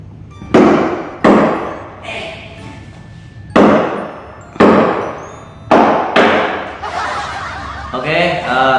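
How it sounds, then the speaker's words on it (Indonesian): A wooden gavel raps on a table at a mock legislative session, several sharp knocks spaced apart, loud and close, while people talk and chuckle between the strikes. "Sebelum kita mulai, kita ketok palu dulu."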